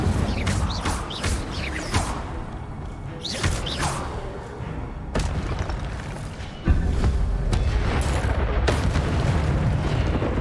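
In the Hogwarts Legacy video game, an Incendio fire spell is cast during combat, with repeated loud booming bursts and whooshing blasts over a dense, continuous battle din.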